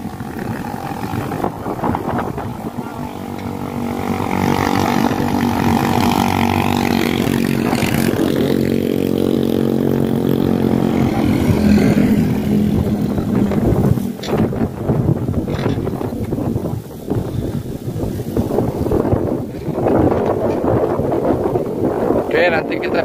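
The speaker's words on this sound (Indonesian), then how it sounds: "Ini dia ekskavator dan satu dump truck pengangkut tanah sudah mulai beraktivitas ya." An excavator and a soil-hauling dump truck work at the Bocimi toll road construction site, their engines droning with a steady harmonic rumble under wind noise and a person talking.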